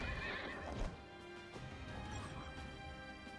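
Horses neigh in the video game Child of Light, a shrill whinny over clattering hooves and a crashing impact during a battle, loud and close.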